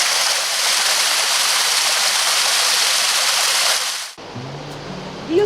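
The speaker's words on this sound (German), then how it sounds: "gleich nebenan gibt es diesen schönen kleinen Wasserfall" A small waterfall in the Black Forest roars as a loud, steady rush of white water close by, then cuts off abruptly, leaving quiet woodland air with a faint voice.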